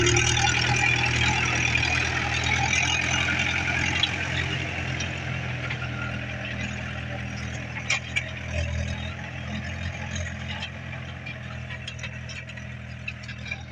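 A tractor engine drones steadily at a moderate distance while wheat is being sown in a field, a continuous low hum with faint scattered clicks and no talking.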